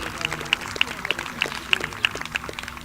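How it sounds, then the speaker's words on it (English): At an outdoor park concert, an audience claps for the band, a short, thin patter of scattered claps with a few distinct louder hand slaps, under light crowd noise. "Give them a round of applause, please."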